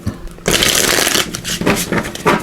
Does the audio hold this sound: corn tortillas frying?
no